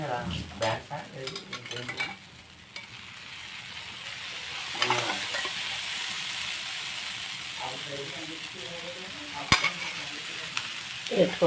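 Dal tempering sizzles steadily in a pan on a stove, a continuous frying hiss with occasional sharper pops and clinks, while someone talks over the first few seconds.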